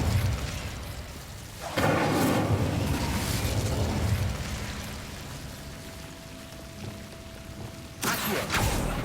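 An Incendio fire spell is cast in Hogwarts Legacy, with loud whooshing flame bursts that flare up, roar for a couple of seconds and fade, then another burst near the end over low ambient game sound.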